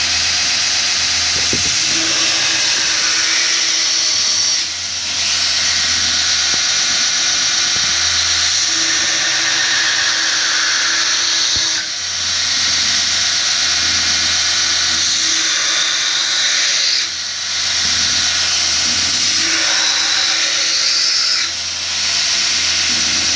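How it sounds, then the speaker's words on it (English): A round bar knife blank is ground, giving a continuous high, harsh whine that runs steadily for over twenty seconds with a few brief dips in pressure, loud and close. "you actually see me grinding"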